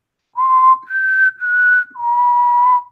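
A person whistles four sustained, clear notes in a simple rising then falling tune, close and loud, with short breaks between them.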